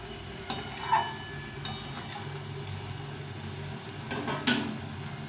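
Fried potatoes, eggplant and leafy greens being stirred in a pan, a few scraping clinks of the utensil against the metal over a low steady background hum, nearby and moderately quiet.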